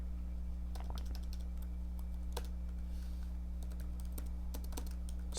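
Typing on a computer keyboard while writing a screenplay outline: irregular clusters of close, crisp key clicks over a steady low electrical hum, with no talking.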